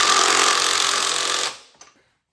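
Power tool removing the bolts that fix the motor mount to the engine block of a 2013 Ford Taurus SHO, a loud continuous close whirring rattle lasting about a second and a half, then stopping with a faint clink afterward.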